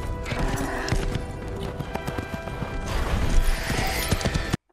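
A horse gallops hard in the Lord of the Rings film The Fellowship of the Ring, its hooves pounding in a fast, loud, continuous rhythm under a dense film soundtrack with a brief whinny, then cutting off abruptly.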